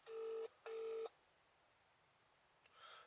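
Telephone keypad tones beep as a number is dialed. Two steady, even tones sound close and clear, followed by quiet and then a faint rising sound at the end.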